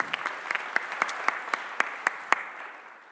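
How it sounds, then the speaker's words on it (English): Conference audience at a tunnelling awards round table claps for a team, a thin scattering of distinct individual claps ringing out in a sparse, fading rhythm. "a big round of applause to the Manfreda"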